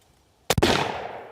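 A single loud rifle shot from a Howa 1500 chambered in 300 Win Mag, a sharp close blast followed by a second crack and a rolling echo that fades over most of a second.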